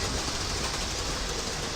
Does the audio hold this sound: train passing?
yes